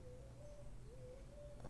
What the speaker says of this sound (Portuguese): dá para ouvir aí os barulhos dos passarinhos